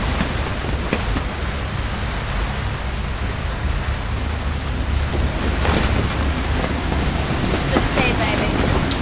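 Heavy storm rain at sea around a catamaran sailboat: a dense, roaring wash of rain and wind-driven surf that stays loud and constant throughout, with occasional gusty swells and no clear voices.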